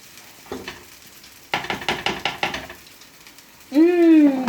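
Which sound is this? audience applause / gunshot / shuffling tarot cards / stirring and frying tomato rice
stirring and frying tomato rice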